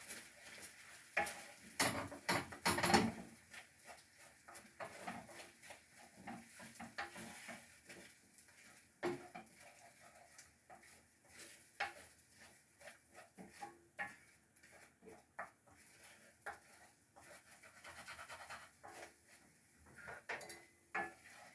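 Tallow fat cooks in a cast iron pan, faint and close: a soft sizzle under repeated scraping, swirling and clinking of a utensil, busiest near the start and then more scattered.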